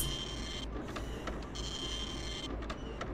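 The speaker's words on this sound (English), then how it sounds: "Ancient printer sounds." An old printer in the Clock Tower video game whirs and buzzes mechanically with a steady drone and short bursts of print-head movement, with no speech over it.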